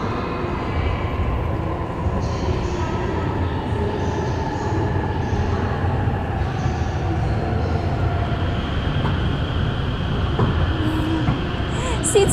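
Train pulling into Ueno Station in Tokyo, a steady rumbling roll of railcars with faint squeals and clanks over the platform ambience, sustained at moderate loudness for the whole clip.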